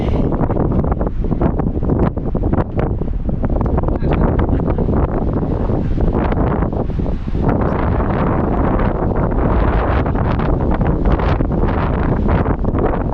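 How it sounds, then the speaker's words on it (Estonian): Strong wind buffets the microphone outdoors by the sea in Finland, a loud, constant roaring rumble that fills the whole stretch with no break. "Tuuline nagu näha."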